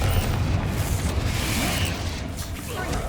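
Spell blasts in Hogwarts Legacy during a fight with a troll and spiders, loud continuous booming explosions and rumbling bursts filling the mix.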